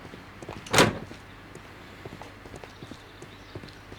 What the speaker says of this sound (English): Head down through this door again.